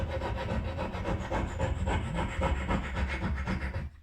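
A file scrapes back and forth over a gardening scissor blade in steady, rhythmic rasping strokes, close and fairly loud, then stops abruptly.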